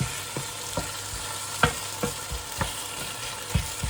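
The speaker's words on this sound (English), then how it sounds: "Just soften them onions down a bit." Onions softening in a pan while a beef dish cooks give a steady low sizzle, broken by a handful of sharp spatula scrapes and taps against the pan at irregular intervals, close and moderately quiet, with no voices.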